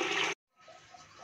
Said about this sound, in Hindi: साथ में हम इसमें पानी शामिल कर लेंगे।